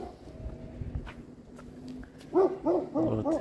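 Neighbours' dogs barking at a villa for sale in Alanya, Turkey: a few quiet rustles, then a short run of four or five fairly close barks near the end.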